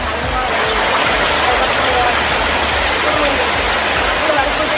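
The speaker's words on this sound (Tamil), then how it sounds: "நாகை மாவட்டத்தின் பல்வேறு பகுதிகளில் கனமழை பெய்தது." Heavy rain falls across Nagapattinam district, a dense, steady hiss of downpour on surfaces that holds at an even level for the whole stretch.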